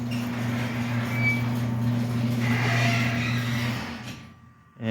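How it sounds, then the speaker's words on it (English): A garage door opener hums steadily as it lifts the garage door, a continuous mechanical drone with a faint sliding rattle that runs for about four seconds before stopping abruptly. "As you can see, the garage door opens just fine,"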